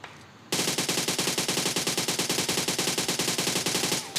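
Sustained automatic gunfire in PUBG Mobile, a solo-versus-squad fight at a Pochinki hot drop: after a brief quiet start, a rapid, steady stream of loud close shots runs almost unbroken for about three and a half seconds.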